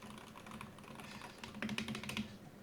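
Typing on a Wooting gaming keyboard, a quiet, quick run of close clacking keystrokes that bunch into a denser burst near the end.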